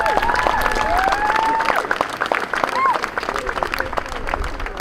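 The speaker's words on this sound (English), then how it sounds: "So just another round of applause for them" An outdoor crowd applauds children who have just performed at a march, with sustained clapping mixed with cheers, whoops and a few high shouts from nearby voices.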